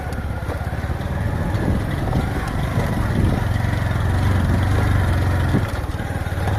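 Motorcycle engine droning steadily under load while climbing a steep hill road toward the Naga hills, loud and close, with some wind rumble.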